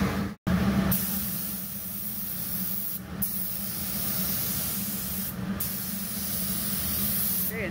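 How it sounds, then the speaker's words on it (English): Long hissing bursts of an aerosol can of rust sealant sprayed onto a rusty gas tank exterior, several sprays in a row separated by brief pauses, close and fairly loud. "I'm going to show you how to spray rust seal. Do a test spray first."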